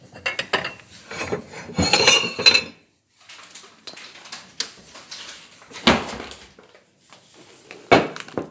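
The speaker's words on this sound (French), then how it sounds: "Pendant que les crêpes cuisent, attrapez une assiette." Dishes and cutlery clatter close by in a kitchen while crêpes cook, with a burst of rattling clinks, then a pause and a few scattered knocks and scrapes as a large plate is picked up and handled.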